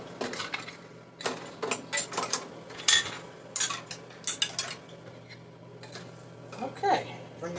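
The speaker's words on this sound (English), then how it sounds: "And at least put the lids and caps in here." Glass jar lids and metal caps clink and clatter in a kitchen with irregular bursts of rattling, fairly close, while people talk quietly in the background.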